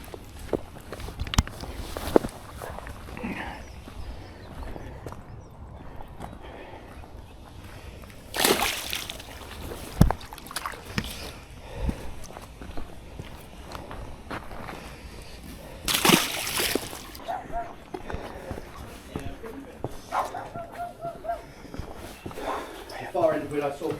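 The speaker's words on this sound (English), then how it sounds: "Let's put them in the water." Fish being released into river water at a fly fishery, with loose splashes and sloshing near the bank, two brief louder splashes standing out, amid rustling movement and scattered handling noises.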